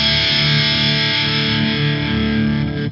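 An electric guitar played through a distortion pedal into a Bias amp holds one thick, heavily distorted chord that rings steadily for about three seconds before cutting off abruptly.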